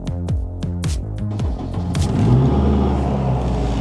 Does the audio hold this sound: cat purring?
no